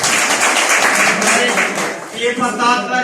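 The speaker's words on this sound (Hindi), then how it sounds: "उनके लिए फिर से एक जोरदार ताली" An audience at a DXN business meeting gives loud applause, a dense wash of clapping that fades after two seconds as a voice begins talking over the tail.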